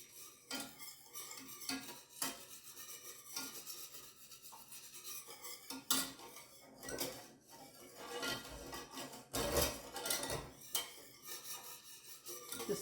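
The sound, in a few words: cooking in a pan for turkey pot pie gravy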